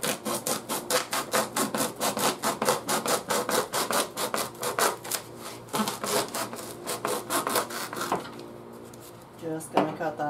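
A warped hacksaw blade cuts a piece of wood in steady back-and-forth strokes, close and loud, rasping in a regular rhythm for most of the clip before stopping near the end.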